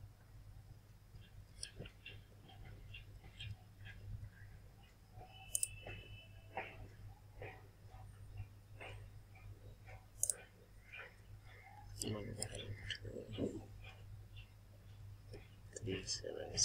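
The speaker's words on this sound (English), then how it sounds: "I'm just typing the verification code." A verification code is entered on a computer keyboard as scattered, soft key clicks in irregular bursts, fairly quiet over a low steady hum.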